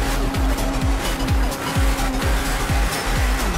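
A car engine revs hard in a racing video game played with a Thrustmaster wheel, rising and dropping repeatedly through quick gear shifts, loud and steady.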